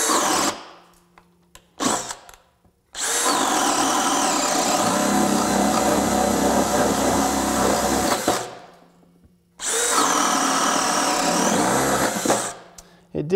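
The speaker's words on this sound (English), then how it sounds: "Here's the DCD800 with 1½-inch spade bit," A DeWalt DCD800 compact 20V drill on high speed bores a hole with a 1½-inch spade bit, making two loud sustained whirring runs of several seconds each, separated by a short pause and preceded by brief trigger blips.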